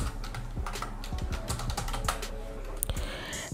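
Rapid, uneven keystrokes on a computer keyboard as a search is typed into a Chrome web store page, close and clear with no voices.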